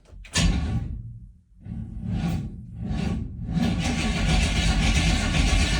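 An abandoned project truck with a freshly restored fuel system cranks in a few loud, separate bursts, then settles into a steady, continuous engine roar close by.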